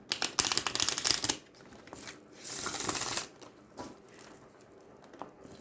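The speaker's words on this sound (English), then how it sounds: "Bit more of a shuffle, and then we'll get some cards going." Tarot and oracle cards are shuffled by hand: a dense riffling burst, a pause, a second longer rustling shuffle, then scattered soft taps and card slides, close with no talk.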